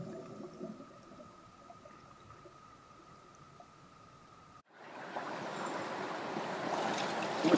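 A river waterfall gives a soft steady rush for a few seconds, then a sudden cut brings a louder, fuller broadband roar of pouring water that builds toward the end.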